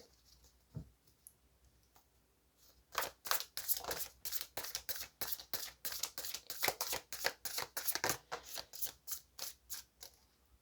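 Tarot cards shuffled by hand, a brief tap or two and then a long run of rapid, evenly pulsing riffling flutters, close and crisp, before a card is drawn.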